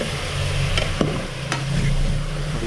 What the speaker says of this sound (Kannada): ಒಂದು ಕೆ ಜಿ ಮಟನ್ ಹಾಕ್ಕೊಂಡು ಅದು ಎಣ್ಣೆಲಿ ಮತ್ತು ಈರುಳ್ಳಿ ಎರಡು ಸೇರಿ ಮಿಕ್ಸ್ ಆಗುವವರೆಗೂ ನೀಟಾಗಿ